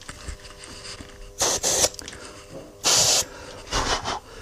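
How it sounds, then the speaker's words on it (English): Short bursts of compressed air blow parting powder through sand-casting mould sprue holes, two strong hissing puffs and a few softer ones, spaced irregularly against a quiet foundry background. "just put a little bit of part down these holes and then blow it around with a bit of air"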